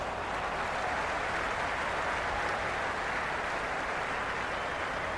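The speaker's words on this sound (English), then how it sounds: "Will you listen to that crowd?" A packed cricket stadium crowd at an India versus Sri Lanka T20 match in Trivandrum roars in a steady, dense wash of cheering and applause that stays loud and unbroken throughout.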